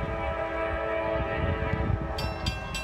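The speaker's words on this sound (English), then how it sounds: "we got a NS intermodal" A Norfolk Southern intermodal freight train passes at Marion with a loud, continuous rumble and a sustained, horn-like tone throughout. Bright squealing bursts rise near the end.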